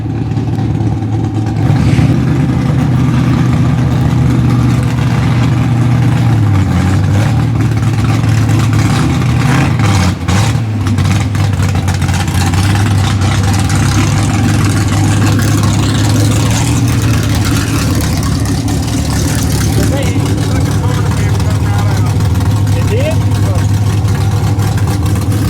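A hot rod called Calamity Jane runs with a loud, close engine rumble that holds steady with slight dips as it revs and shifts, voices talking over the noise.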